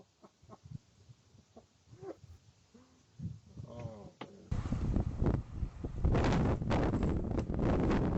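Strong wind in extreme weather buffets the microphone, starting with scattered gusts and faint voices, then surging into a loud, constant roar for the second half.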